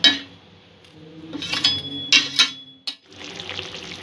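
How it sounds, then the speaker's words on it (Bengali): Water poured into a pan of onion-and-eggplant gravy to boil rohu fish, heard as short bursts of splashing and pouring with a few metal clinks in between, close and moderately loud, with no talking. "মাছটা সেদ্ধ করার জন্য জলটা দিলাম।"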